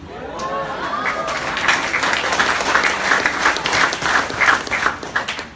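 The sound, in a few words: audience applause at presentation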